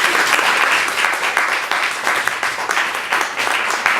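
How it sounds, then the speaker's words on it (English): An audience at a community radio speaker event gives a round of applause, a full, dense clapping that stays loud and continuous for several seconds. "Come on, a round of applause."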